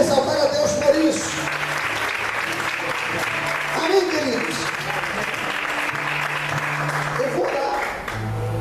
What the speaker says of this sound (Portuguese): Você pode aplaudir e exaltar a Deus por isso.